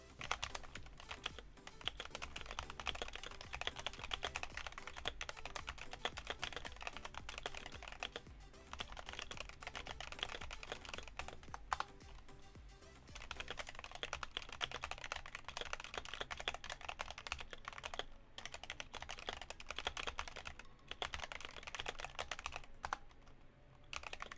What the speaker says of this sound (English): I want to do a typing sound test so you guys can actually hear how the keyboard sounds